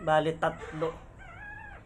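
A person talks briefly, then thin, wavering high-pitched whimpers rise from a litter of three newborn puppies, soft and close.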